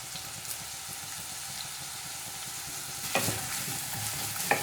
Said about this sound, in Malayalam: ഈ ഉള്ളി ഒന്ന് ഫ്രൈ ആയിട്ട് വരട്ടെ